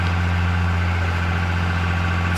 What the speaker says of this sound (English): Put my tractor over here.